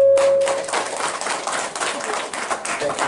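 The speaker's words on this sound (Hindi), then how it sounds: "एक बार जोरदार ताली झालो, जोरदार एकदम।" Loud applause from a crowd at an outdoor bhajan singing event in a village thanda, continuous dense clapping that starts at once and holds steady, with a faint tone fading in the background.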